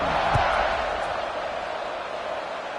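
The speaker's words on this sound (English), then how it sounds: "this crowd is buzzing after that last score" A football stadium crowd buzzing after a score, a broad continuous murmur of many voices with a faint shout near the start, steady and distant.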